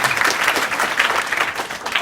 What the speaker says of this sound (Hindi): सारिका के लिए जोरदार ताली